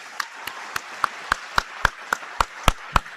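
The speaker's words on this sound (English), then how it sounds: "let's everybody give them a huge, huge round of applause for being here" Single pair of hands clapping in a steady, even rhythm, about a dozen crisp claps, fairly close.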